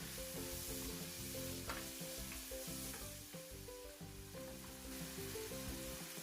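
Masala with green chillies and tomatoes fries in a pan as a faint, continuous sizzle and crackle, steady throughout with no voices.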